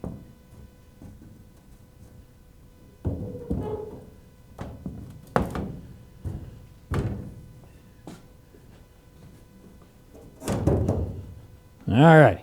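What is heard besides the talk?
car hood being put back on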